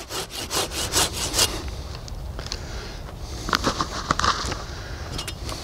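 A pruning saw cuts through an apple tree branch during autumn pruning, rasping in a steady run of strokes at close range, then a pause and a few lighter rubbing strokes near the end.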